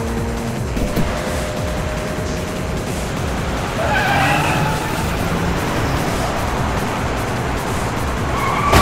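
A car driven hard with tires skidding and squealing, a continuous loud engine roar under a long screech that swells midway and holds to the end.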